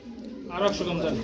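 Golla pigeons, a breeding pair offered for sale at a pigeon market, give a short, soft cooing call that swells midway through and carries on briefly.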